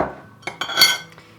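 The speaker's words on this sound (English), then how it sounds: "I'm just going to whisk this all together" Metal whisk clinking against a bowl while lemon juice is mixed in for lemon scones, a few quick sharp taps and rattles close by, with no talking.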